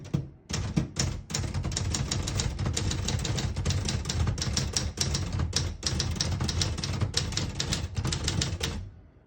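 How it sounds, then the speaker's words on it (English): A 1974 Adler J5 manual portable typewriter clacks in rapid, uneven bursts of keystrokes, close and loud, with brief pauses between runs of typing. "Beautiful typing machine."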